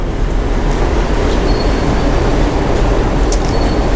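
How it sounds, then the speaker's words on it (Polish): A train pulls into a station platform with a continuous, loud low rumble and rolling noise and a few faint high squeals near the end. No voices break through. "Czyli co, wsiadamy w pierwszy pociąg?"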